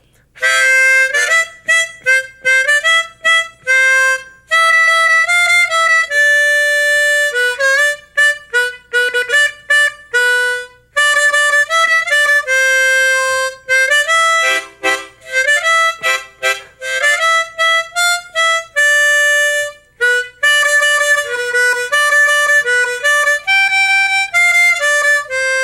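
Harmonica playing Polly Wolly Doodle with a tongue-oodle articulation, bright reedy notes in quick repeated pulses and short phrases, loud and close, no talking.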